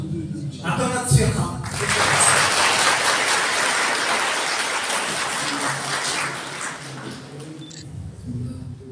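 An audience at a religious chanting concert marking the Prophet's birthday breaks into applause, a dense burst of clapping that swells after a second, holds for several seconds, then fades, with voices talking at the start and end.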